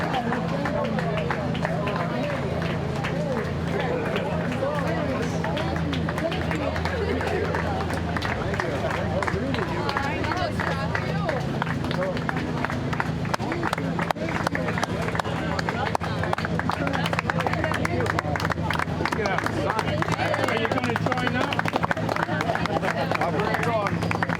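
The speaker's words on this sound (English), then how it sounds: "And that's clapping for me." At the Korean War Memorial, a crowd greeting veterans keeps up long, steady clapping, a continuous patter of many hands heard under constant talking and nearby chatter.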